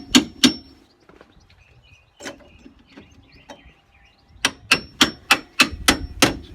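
A hammer strikes a bush and bolt into a van subframe: two sharp metallic clangs, a pause with lighter scraping and taps, then a rapid run of about seven ringing blows, close and loud.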